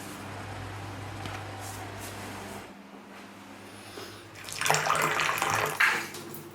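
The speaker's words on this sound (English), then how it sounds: "I'm going to pour some boiling water down there and see if that unblocks the last bit" Water trickles faintly, then boiling water is poured down a drain in a louder gushing splash that rises and fades near the end.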